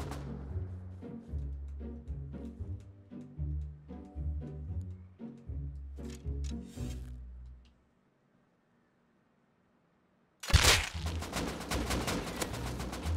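An AK rifle fires in the Rust video game, a string of close, punchy shots in uneven rhythmic bursts. A silent gap follows, then a sudden harsh burst of noise.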